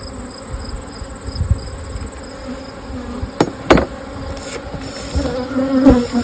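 Honey bees buzz steadily inside an open beehive, a loud, close, continuous drone punctuated by a few sharp knocks and clicks from handling the hive frames.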